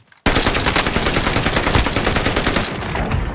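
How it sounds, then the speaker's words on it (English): An enemy player fires a weapon in an online shooter video game, a loud, continuous rapid-fire burst of gunshots that starts abruptly after a brief silence and rattles on without pause. "Yeah, he's shooting at us."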